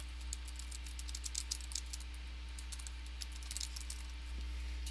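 Quiet keyboard typing in short bursts of light clicks over a steady low electrical hum, with no one speaking.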